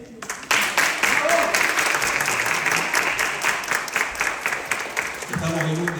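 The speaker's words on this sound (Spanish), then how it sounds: "Si usted quiere aplaudir, aplauda." Audience at a Bible-themed debate in Chile claps steadily for about five seconds, a dense, even wash of many hands at close range, with a voice briefly heard near the end.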